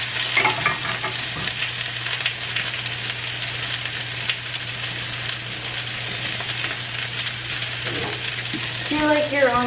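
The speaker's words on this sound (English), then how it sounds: "Do you like your onions sauteed like crisp, like kind of with a burnt edge, or do you like them like this?" Onions sautéing in a pan for a cheese-topped dish, giving a steady close sizzle and crackle with occasional stirring scrapes, joined by a faint voice near the end.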